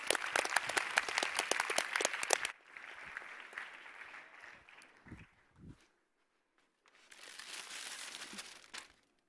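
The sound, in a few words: audience applause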